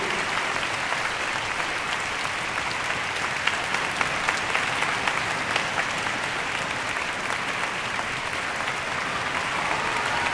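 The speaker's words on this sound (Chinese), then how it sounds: "我们也要给他们掌声鼓励。" Steady, sustained applause from a concert audience for the solo musicians of a youth orchestra after a performance of Rimsky-Korsakov's Scheherazade, dense and even throughout without breaks.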